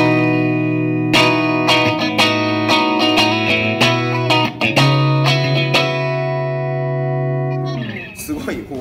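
Electric guitar played clean in an arpeggio, notes ringing out one after another and sustaining into each other, loud and close, with a chorus-like shimmer and a final strum-off at the end.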